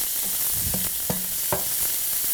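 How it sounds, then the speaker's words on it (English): Onions sautéing in a pan, a steady soft sizzle with a few spoon or spatula scrapes and stirs breaking through at irregular intervals. "What you want to do is you want these onions to caramelize just a bit. So you want to saute this about 4 or 5 minutes."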